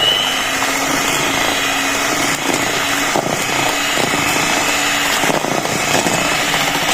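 An electric hand mixer whirs steadily and loudly while beating mashed-banana steamed cake batter, with a constant motor drone and a faint scraping rattle as the beaters move through the bowl, with no talking.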